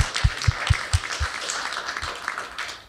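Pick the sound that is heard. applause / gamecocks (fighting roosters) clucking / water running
applause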